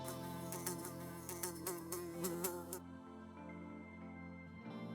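A steady insect buzz drones close by, with a rhythmic pulsing texture in the first half before continuing smoother and fainter.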